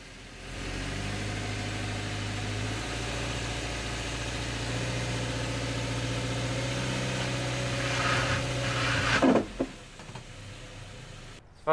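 A Subaru Crosstrek engine hums steadily under load while driving up ramps with X mode engaged, a close, continuous mid-low drone that rises slightly before abruptly cutting to brief clunks and quiet.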